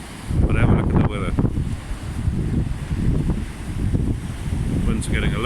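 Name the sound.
strong wind at Isipingo Beach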